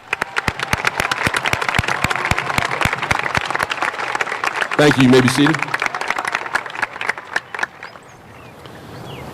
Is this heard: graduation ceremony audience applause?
yes